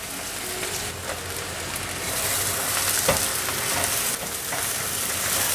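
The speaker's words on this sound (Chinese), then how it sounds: "翻炒均匀，放入红喜菇。" Stir-frying with red mushrooms just added to the wok, a steady crackling sizzle with scraping stir strokes, loud and close with no voices.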